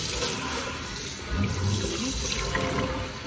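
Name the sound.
water running while rinsing hair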